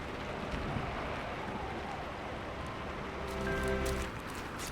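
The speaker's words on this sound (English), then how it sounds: "It's very, very rainy out." Steady rain falling outdoors, a soft continuous hiss with faint wind, with a brief swell near the end, and no voices.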